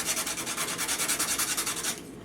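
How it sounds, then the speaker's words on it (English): Coarse 60-grit sandpaper rubs back and forth over a painted wooden type case in about ten quick, even, close strokes, then stops abruptly near the end. "I'm going in with the 60 grit and doing it just a little bit more"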